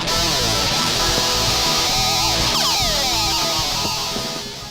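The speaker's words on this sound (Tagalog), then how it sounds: "tumugtog sa venue na walang guitar amplifiers at eto ang kinalabasan ng tunog ng gitara mo" A thin, buzzy electric guitar played direct with no amplifier plays a busy riff with bends and sliding notes, harsh and unamplified-sounding, continuous and fairly loud with no voices.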